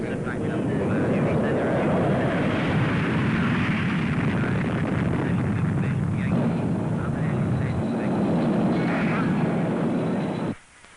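A loud, steady roar of jet engines as an airplane takes off fills the air, a broad rumbling wash that holds strong throughout before cutting off abruptly at the end.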